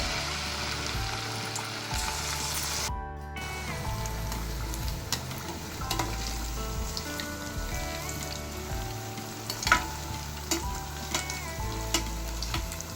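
Chicken pieces deep-frying in oil over a medium flame for a Japanese-style chicken snack make a continuous soft bubbling sizzle, with a few scattered pops and an occasional scrape of a utensil.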